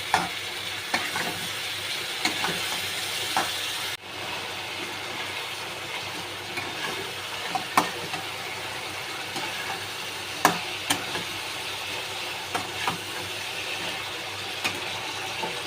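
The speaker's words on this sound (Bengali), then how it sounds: "একটু ভালো করে কষে নেব" Chicken sautéing in a pan with about two large spoonfuls of sour yogurt and no added water: a steady, close, broadband sizzle with scattered scraping clicks from stirring, and no talking.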